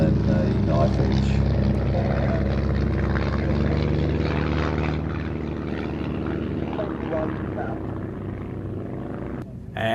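A propeller-driven aerobatic plane flies a gentle side slip at an air show, its steady engine drone loud and continuous with a slight fade partway through, while a commentator talks over it.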